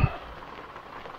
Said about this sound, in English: You can hear it's starting to rain outside a little bit.